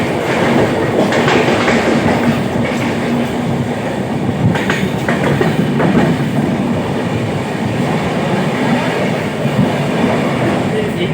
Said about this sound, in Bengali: আপনি ট্রেন এখন পার করছে স্টেশনটি ঠিক বুঝতে পারছি না কোন স্টেশন